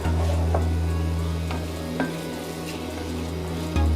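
Chopped tomatoes for pasta alla zozzona sizzle steadily in a hot pan, a continuous loud frying hiss with a few soft clinks of stirring, no voices.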